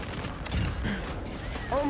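TAQ-V rifle fire in the video game Warzone 2: a dense, continuous stream of rapid shots heard at moderate distance, mixed with game noise and a few rising electronic tones near the end.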